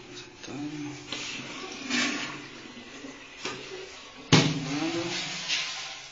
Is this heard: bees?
no